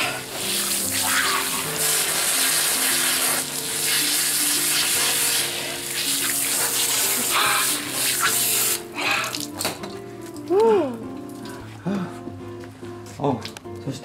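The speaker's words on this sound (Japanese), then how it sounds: "ちょっと水、シャワーを浴びたんで" A cold-water shower runs steadily in a home sauna setup with a bright, hissing spray, then cuts off to drips and a voice talking.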